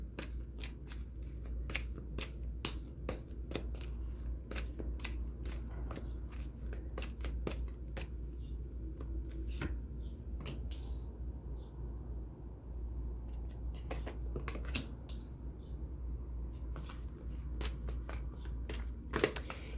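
Tarot cards shuffled by hand for a love reading, a steady run of soft riffling and slapping card sounds repeating close up throughout, with no talking.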